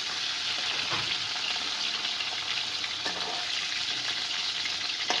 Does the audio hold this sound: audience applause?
no